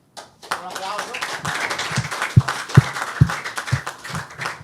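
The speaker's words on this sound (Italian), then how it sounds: "Un applauso." Scattered clapping from a crowd beneath a talking voice, with a few sharp, louder claps standing out near the middle, at an under-14 football awards ceremony in Padova.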